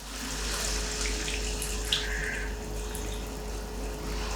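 Water poured from a tap or jug into a pan of potato and pointed gourd curry, a steady continuous splashing rush under a faint low hum, with no voices.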